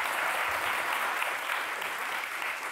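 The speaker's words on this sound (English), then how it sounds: "You can give an applause." Steady, dense applause from a crowd, continuous clapping throughout at an even loudness with no talking.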